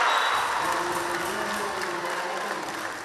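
Audience applause from devoted fans at a women's Canarian wrestling final in Puerto Cabras, a steady broadband wash of clapping held at even loudness throughout, no voices over it.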